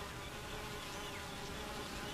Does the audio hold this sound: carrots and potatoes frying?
no